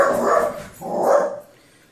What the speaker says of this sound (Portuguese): Cachorro bravo!